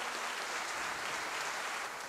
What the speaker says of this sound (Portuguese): Uma salva de palmas para eles mais uma vez